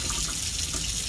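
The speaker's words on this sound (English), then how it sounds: "first I turn on medium water" A faucet runs at medium flow into a sink, a steady, full, close-up water rush with no pauses.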